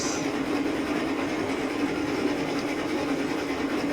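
Trains in Railroads Online roll along the track with a steady, continuous rumble and rhythmic clatter of wheels on rail, heard alone without talk.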